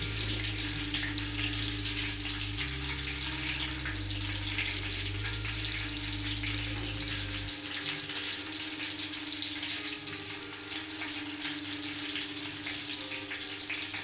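Continuous crackling sizzle of bitter gourd frying in oil over a high flame, steady and close, with a low hum underneath and no voices.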